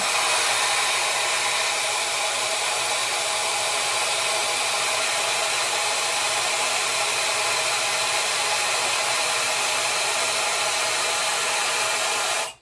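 A Shark hair dryer blows in a loud, steady rushing whoosh that holds evenly for the full stretch before cutting off abruptly at the end.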